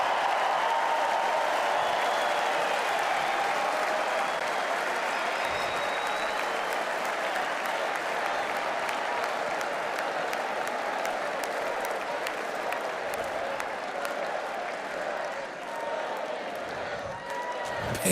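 Large political convention crowd at the Republican National Convention applauding and cheering in a sustained, dense roar that holds steady throughout, with clapping and crowd voices blended together.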